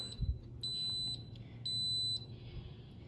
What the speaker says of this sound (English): So as you heard, it beeped, letting you know that it's turned on.